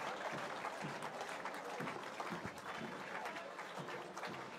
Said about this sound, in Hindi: दर्शकों से अनुरोध, जोरदार तालियों से स्वागत अभिनंदन करें इन रणबांकुरों का